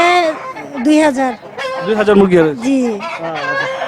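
Tiger chickens on a poultry farm cluck and call close by in a steady run of bird sounds, with voices talking over them.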